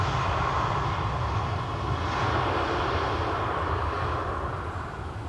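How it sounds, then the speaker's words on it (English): Air France airliner landing from Paris at Schiphol's Polderbaan runway, its jet engines giving a loud, sustained rumbling roar that eases slightly toward the end, with no speech. "Air France just landed, arriving from Paris"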